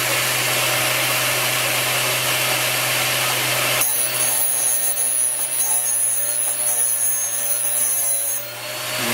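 A GD-13A drill sharpener grinds a drill bit, giving a steady close abrasive whine with a high ringing tone that runs for about five seconds before cutting off, following a stretch of broadband motor noise.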